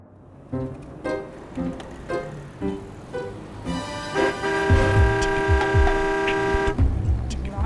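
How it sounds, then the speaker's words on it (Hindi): A car horn honks in a series of short, repeated toots, then blares in a long sustained blast, with an engine rumbling underneath. "जब देखो पै पै पै हर वक्त हॉर्न बजाते रहता है।"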